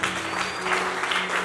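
A church congregation applauds during a harvest festival service, a dense, steady wash of many hands clapping that fills the short moment with an even, close roar.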